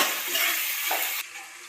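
A spoon stirs vegetables through a sizzling pan for Gujarati vaghareli khichdi, a steady frying hiss with faint scraping that drops abruptly quieter near the end.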